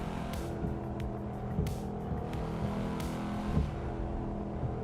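A car engine drones steadily in the racing video game Assetto Corsa on the Shutoku Revival Project track, a continuous mid-level hum with small shifts and faint clicks over a few seconds.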